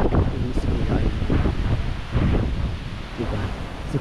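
Strong wind gusts buffet the microphone at an outdoor hot tub in San Diego during a storm, a loud continuous roar with swelling rumbles throughout.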